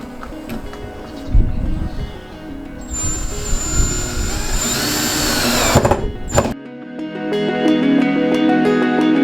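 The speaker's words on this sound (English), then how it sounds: "Over here I'm just putting the final screws for our bed frame." A power drill drives the final screws into a bed frame, giving loud whirring bursts of varying pitch over a noisy background, before an abrupt cut to quieter sound near the end.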